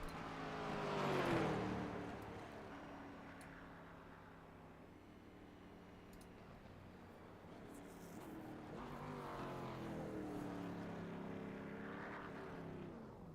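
Race car lapping Five Flags Speedway in a Grand National Pro Series practice session, engine swelling as it passes close, fading into a steady distant drone, then building again as it comes around.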